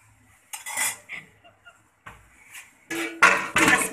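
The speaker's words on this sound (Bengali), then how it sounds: "আবার ঢেকে দিচ্ছি।" A lid goes back onto a cooking pot of hilsa curry, with clanking and scraping metal bursts, a quiet pause, then louder clattering knocks near the end.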